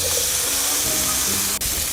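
Green beans sizzle in a hot pan at a riverside van camp, a steady close hiss of frying that holds without a break, with only a brief dip near the end.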